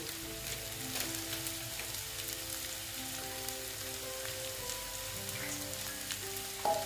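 Ground spices and Kashmiri chili powder fry in a pan for a ghugni masala, giving a steady, close hiss of sizzling oil with scattered soft pops throughout. A faint humming tone sits underneath.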